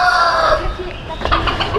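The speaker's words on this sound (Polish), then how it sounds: "A tu Mister Kogut." A rooster crows loudly and close by, a drawn-out call followed by clucking fowl in the background.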